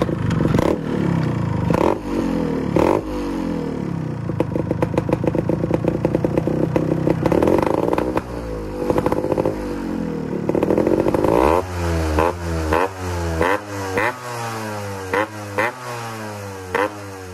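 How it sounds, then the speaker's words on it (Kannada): A Yamaha RX motorcycle fitted with an inbuilt silencer idles loudly and close up, throbbing with a rapid two-stroke pulse that swells in short revs and drops back, with no talking. "ಇದು ಐಡ್ಲಿಂಗಲ್ಲಿರೋ ಸೌಂಡ್ ಇದು."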